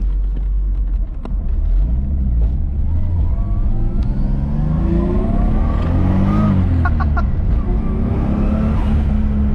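A Toyota 1JZ engine fitted with a Tomei ARMS MX8280 turbo in a Lexus GS300 revs hard under acceleration. It makes a loud, continuous rising drone with overlapping harmonic sweeps and brief sharp bursts toward the end.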